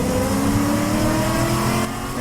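Race car at Podium Club track setting off on a hot lap, its engine droning loud and close with a rising revving tone, no voices.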